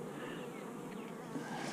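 Honey bees buzz around hive boxes holding medium frames, a faint, steady insect drone that stays low and continuous with no voices over it.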